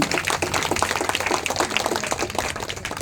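Audience at a Telugu community meeting applauding together, a steady dense wash of many hands clapping that holds at even loudness throughout, with no talk over it.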